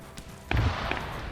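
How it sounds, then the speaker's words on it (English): Anti-tank rounds impact in the Arma video game, with a heavy thud landing near midway, a second fainter hit shortly after and a sharp crack at the end, all over a steady low battle rumble. "more AT rounds coming in on this group"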